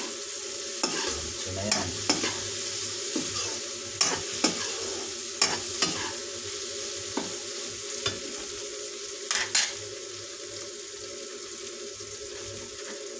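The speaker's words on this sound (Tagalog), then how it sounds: "Pwede na po natin ihalo yung ating giniling." Ground pork stir-fried in a pan with chayote and cabbage, a steady sizzle under repeated scraping and stirring clatters, with a single brief spoken phrase.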